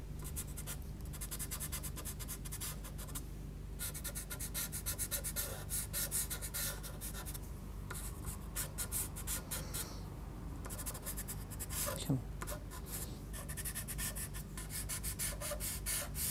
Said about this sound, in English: First of all, the white pencil, we're going to add a few little clouds, thin lines of clouds